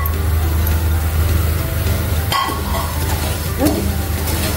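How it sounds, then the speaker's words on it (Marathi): Cumin seeds dry-roasting in a hot pan over a gas flame turned up high give a steady close hiss over a low burner rumble, broken by a couple of brief stirring scrapes. "जिरं भाजून घेऊया।"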